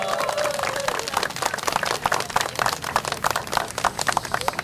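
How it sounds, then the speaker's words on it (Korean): A crowd at an outdoor candlelight rally in a city plaza clapping together, a continuous rattle of many hands at moderate distance with a brief voice near the start. "박수 한번 치겠습니다"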